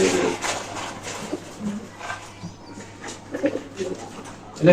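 Pigeons coo close by in soft, low, repeated throaty bursts at a loft, overlapping one another with light rustling in between.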